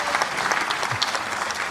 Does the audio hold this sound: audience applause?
yes